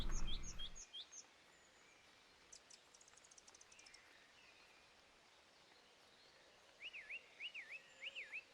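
Bird calls in the survival game UnReal World, grouse-hunting in the woods: a quick series of chirps at the start, faint trilling in the middle, then several clear whistled calls near the end over quiet forest ambience.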